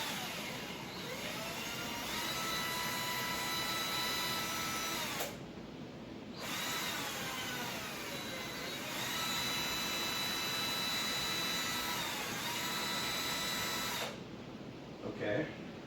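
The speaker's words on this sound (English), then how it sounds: "See if I can trigger the drill" A power drill whirs steadily at close range while someone tests it wearing a homemade exoskeleton, the motor running for long stretches with two short pauses and a slight shift in pitch, with faint voices underneath.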